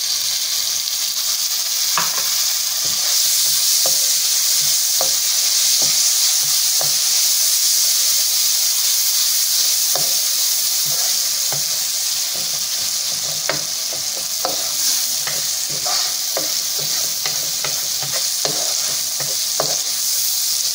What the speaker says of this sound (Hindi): इनको हम हल्का सा इसमें भूनेंगे।